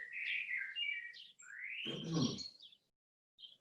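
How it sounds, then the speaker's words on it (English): A common blackbird sings outdoors in a quiet, calm setting, with a few separate rich warbling phrases and brief pauses between them, moderately close and clear, with no voices present. "I hope you're enjoying my blackbird."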